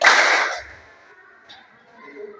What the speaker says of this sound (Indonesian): Tepuk 1 kali.